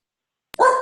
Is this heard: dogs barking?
yes